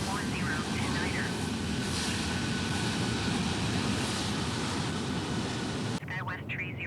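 Airliner engines roaring steadily on landing in Microsoft Flight Simulator 2020 at Phoenix Sky Harbor runway 8, a loud continuous broadband rumble that cuts off abruptly near the end, with radio chatter underneath.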